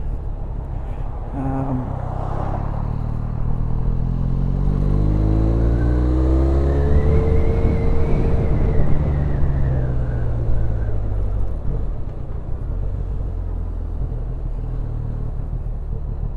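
A Harley-Davidson X Series motorcycle engine hums and shifts pitch as it rises and falls through the gears while circling a roundabout, steady and close, with no talking.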